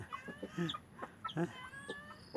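Several chickens cluck and chatter close by while pecking at fatty pork scraps, in a busy run of short, rising clucks and calls.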